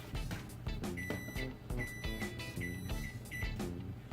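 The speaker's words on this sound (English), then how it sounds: "Okay, timer's going off." A kitchen timer sounds off during the wort boil of a five-gallon Orange Golden Ale brew day, its repeated high electronic beeps pulsing steadily over a loud rumbling background of kitchen and boiling noise.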